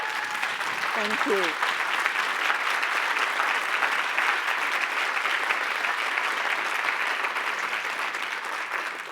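Steady, full audience applause after a State of the University address at Utah Valley University in 2019, continuing at an even level throughout while a voice briefly offers thanks near the start.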